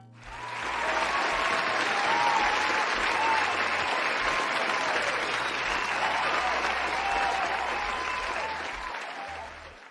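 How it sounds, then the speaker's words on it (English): A crowd breaks into a sustained round of applause, dense, even clapping that swells quickly and holds for several seconds before tapering off. "you deserve a round of applause for that"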